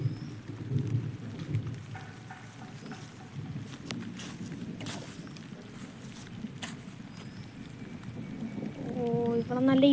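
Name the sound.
thunderstorm with heavy rain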